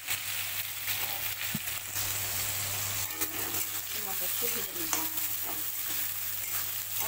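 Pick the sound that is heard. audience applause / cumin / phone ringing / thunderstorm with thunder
cumin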